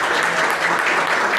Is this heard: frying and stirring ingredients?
no